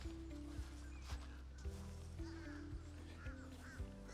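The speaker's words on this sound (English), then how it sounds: "Those birds are driving me crazy." Noisy birds, likely ducks or geese, call outside a Florida home, with repeated honking and quacking bursts at a steady rhythm against a constant low background hum.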